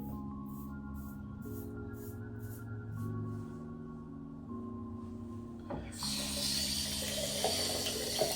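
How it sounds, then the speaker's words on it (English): Tap water runs steadily into a sink while a safety razor blade is rinsed, the flow growing louder and brighter toward the end, over a faint background tone, with no voices. "I'm going to keep rinsing off the blade as much as possible."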